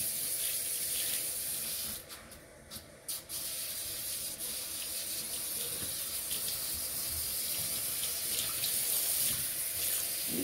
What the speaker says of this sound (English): I like to normally wash my hair 2 times with shampoo